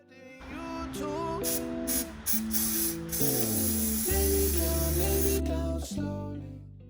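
Rust-Oleum terracotta spray paint hisses steadily onto a soap dish, a close, continuous spray partly masked by prominent background music throughout.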